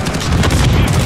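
A loud, dense blast of rocket launch and gunfire in the video game Call of Duty: Modern Warfare (2019), a brief roaring burst with no pause.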